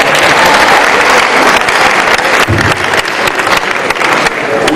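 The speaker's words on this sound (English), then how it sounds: "if you want to clap for the candidates and the organizers," A town hall audience claps for the candidates and organizers, loud sustained applause filling the room for several seconds, steady and dense.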